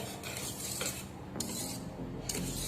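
A spoon clinks and scrapes around a bowl of vanilla sponge cake batter in a few distinct strokes, a soft close tapping and swishing rhythm with no talking.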